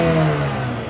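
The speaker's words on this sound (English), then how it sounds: "you can hear that 4-cylinder. We got a little rev time with that little bad boy." The 2-liter 4-cylinder engine of a 2025 BMW X3 30 xDrive revs in a short, loud, nearby burst with a rising throaty drone and no talk over it.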